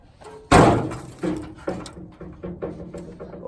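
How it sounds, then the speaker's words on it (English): Loose 1941 Plymouth car doors are handled in a classic auto parts yard: one loud, sharp metallic clunk, then several lighter knocks and rattles fading out one after another, close and without talk. "Well, 41 Plymouth doors."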